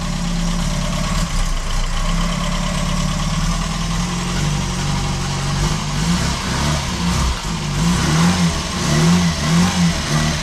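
Classic Ford Mark II engine running steadily near the listener, with a low rumbling idle that swells into repeated revs toward the end, continuous throughout with no talking.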